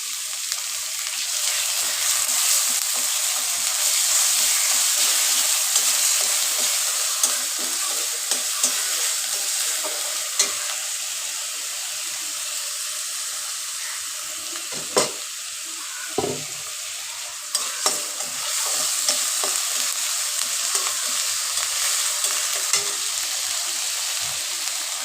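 Spices with turmeric, salt and chili powder sizzle steadily in a pan for a fig curry, a continuous frying hiss broken by occasional scraping clunks of stirring, with no talking.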